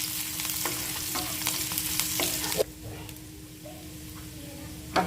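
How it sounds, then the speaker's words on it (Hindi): Chopped garlic, chili and ginger fry in a pan with a close, crackling sizzle and stirring scrapes that drop sharply to a quieter hiss midway, then a brief clatter near the end. "इसके बाद हम डालेंगे कटे हुए लहसुन और कटे हुए मिर्च और कटे हुए अदरक। अब इन सभी चीज़ों को हम अच्छी तरह से भून लेंगे।"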